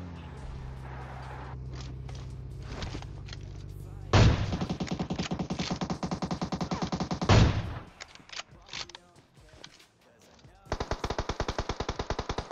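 Rapid automatic gunfire bursts from PUBG Mobile gameplay, with long loud rattling volleys, a pause with scattered shots and movement, then another sustained burst.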